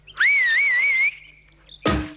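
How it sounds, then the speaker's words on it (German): A short, loud rising-and-wavering whistle, like someone whistling to call a horse, holds for about a second, followed by a quiet gap and a brief burst of noise. "ich habe nach meinem Pferd gepfiffen"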